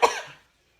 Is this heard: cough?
yes